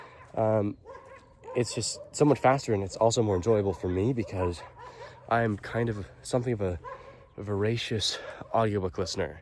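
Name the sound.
barking dogs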